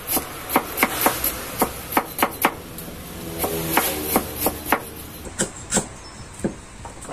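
A knife chops pork and herbs for stuffed frog on a board, a series of sharp, close, rhythmic thuds in quick bursts with short pauses between them.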